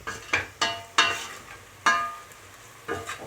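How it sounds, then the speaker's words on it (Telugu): Onions fry in a pan for a Telangana-style goat kidney curry, stirred with sharp metallic scrapes and clinks at irregular intervals over a soft sizzle. "ఉల్లిగడ్డలు వేగి ఈ విధంగా గోల్డెన్ బ్రౌన్ కలర్లోకి వచ్చాక"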